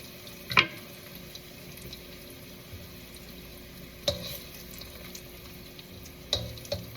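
Pre-cooked potatoes fry in a non-stick pan, giving a steady, soft sizzle. A few sharp scrapes and clicks from stirring cut through at intervals, and no one speaks.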